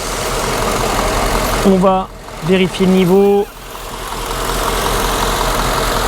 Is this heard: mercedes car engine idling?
yes